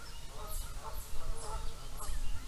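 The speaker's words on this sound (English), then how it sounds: "Those are ducks, I think, or geese or something." Ducks or geese honk repeatedly outdoors, a run of four or five nasal calls at moderate distance over low background rumble.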